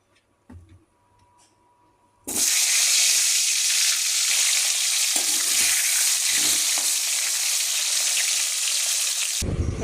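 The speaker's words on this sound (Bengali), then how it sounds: "এই যে মাংসর আলুটা ভাজবো হলুদ নুন মাখিয়ে নিয়েছি এখানে তেলও গরম হয়ে গেছে" Potatoes for a meat curry, coated in turmeric and salt, hit hot oil in a pan with a sudden loud, steady sizzle after a few quiet kitchen clinks. The frying carries on close up and cuts off at the very end.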